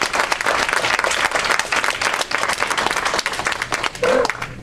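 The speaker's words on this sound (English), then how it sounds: "Can we give them a round of applause, please?" An audience applauds a speaker's thanks to Claudia and her team from RHCC, dense steady clapping sustained loudly throughout, with a brief voice or whoop near the end.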